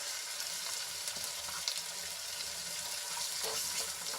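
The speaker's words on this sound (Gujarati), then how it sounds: "આદુ લસણ અને મરચાંની પેસ્ટને આપણે સાંકળી લઈશું" Ginger, garlic and chili paste sautés in oil in a pan, a soft steady sizzle with faint scrapes and occasional light clicks, fairly quiet and free of speech.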